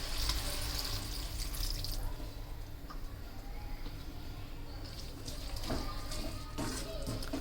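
Water poured into a pan for cooking drumstick leaves, a steady splashing pour that eases off midway and resumes with a few scrapes and clinks, close and fairly quiet.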